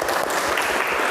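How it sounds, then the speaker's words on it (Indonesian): A class claps together at the start of a lesson, a brief burst of dense, even applause from a group in a room, fairly loud and without talk. "tepuk tangan untuk kita semua"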